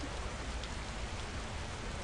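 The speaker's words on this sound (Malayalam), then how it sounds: "അവിടെ നേരത്തെ നല്ല മഴയുണ്ട് അവിടെ പോയി നോക്കോ" Rain falling in an Indian GTA-style video game makes a steady, dense hiss of drops with no pauses, even and fairly loud throughout with no voices.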